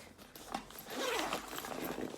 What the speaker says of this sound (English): oh, it's another zipper on the back